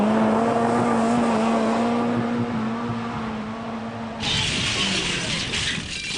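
A Lada car driven hard, the engine droning with a steady tonal whine that then gives way to a harsher, louder burst of noise near the end.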